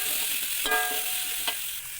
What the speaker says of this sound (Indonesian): Kita goreng dulu potong jamurnya.